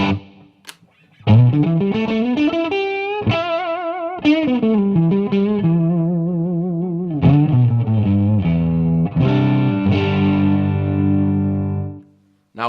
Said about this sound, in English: I could take down the reverb a bit still and shorten the decay so it's a shorter reverb.